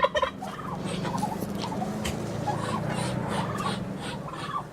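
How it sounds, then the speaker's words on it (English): Turkeys and other fowl on a homestead gobble in repeated bursts over a low, steady background murmur of birds, moderately close and with no talking. "All the birds."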